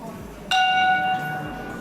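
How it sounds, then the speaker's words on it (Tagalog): A gong at a Buddhist temple in Sapporo is struck once, giving a loud, bright metallic ring that sustains and slowly decays over about a second against quiet background ambience. "There's another gong here."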